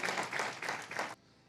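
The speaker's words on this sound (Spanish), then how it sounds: "Fuerte ese aplauso." A church congregation claps during a Spanish-language worship service: brisk, rhythmic applause in a roomy space that stops abruptly after about a second.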